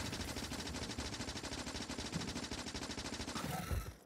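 Automatic gun turrets in Factorio rattle off rapid, continuous bursts at attacking biters, a dense, loud, steady stream of machine-gun fire that runs throughout, with a few heavier thumps near the end.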